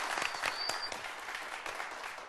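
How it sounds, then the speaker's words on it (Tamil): An audience at a Tamil comedy show claps in a continuous, fairly even round of applause, with a few sharper individual claps standing out early on. "எல்லாம் கைத்தட்டுங்க"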